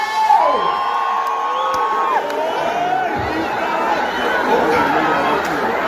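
A comedy show audience cheers and shouts, a dense, loud, continuous roar of whoops and chatter that lasts throughout.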